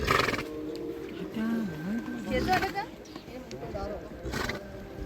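A horse in Pahalgam neighs in a brief, wavering whinny after a ride, partly under nearby voices and outdoor noise.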